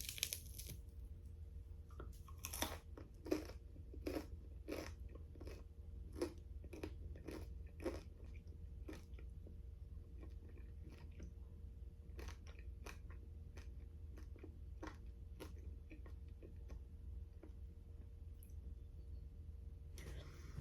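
Repeated crisp crunches of teeth biting into crusty bread, a burst of several bites early on, then steady chewing crunches spaced through the rest, close up.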